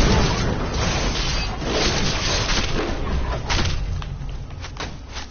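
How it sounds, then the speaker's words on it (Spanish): A dragon's fire-breath shout in Skyrim roars out as a loud, sustained rushing blast with rumbling thuds underneath, holding steady for several seconds before easing slightly amid scattered impacts. "Vamos a usar grito de fuego."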